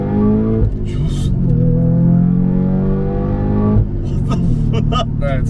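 A tuned stage 3 Audi S3 with a manual gearbox accelerating hard in second gear, its engine note climbing steadily toward about 4,200 RPM. The engine is loud and close inside the cabin, with a brief lift near the end.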